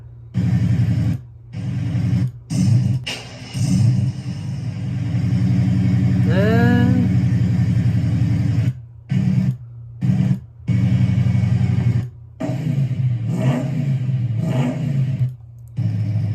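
A 1988 Mustang LX 5.0 with GT40 heads, BBK shorty headers, a BBK H-pipe and a MagnaFlow catback revs in short bursts. A steady low idle runs between the loud blips, and one sweeping rev climbs in the middle.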